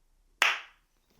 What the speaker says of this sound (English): You do a clap because that audio syncs it.